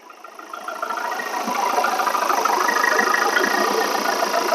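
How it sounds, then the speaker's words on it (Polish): A 2019 Ford Mondeo ST-Line EcoBlue diesel engine idling nearby, a steady low rumbling chug that swells in the first second and then holds even and loud, with no voices. "Tak pracuje dieselek."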